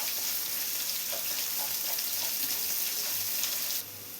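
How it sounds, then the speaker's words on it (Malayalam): Sliced onion sautéing in hot oil in a pan, a steady close sizzle with occasional faint stirring scrapes, fading slightly at the very end. "സവാള നന്നായി തന്നെ ഒന്ന് വഴറ്റിയെടുക്കണം."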